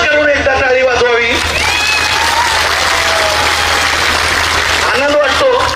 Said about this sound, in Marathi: जरा दोन्ही हात वर करून एकदा टाळी वाजवावी